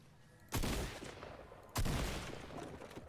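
Two heavy shotgun blasts in a Simpsons-season shooter game, about a second apart, each a loud broadband crack with a ringing decay, standing alone with no talk.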